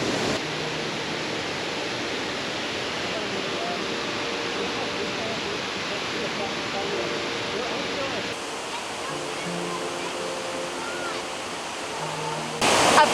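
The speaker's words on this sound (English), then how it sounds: "A private waterfall" Cummins Falls, a waterfall and swimming hole, pours with a steady, enveloping rush of falling water, a constant broadband roar heard close by with little variation.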